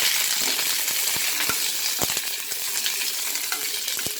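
Mexican mint leaves sautéing in a couple of spoons of hot oil, with a steady close sizzle and frying crackle plus scattered sharp clicks and scrapes of stirring throughout, no voices.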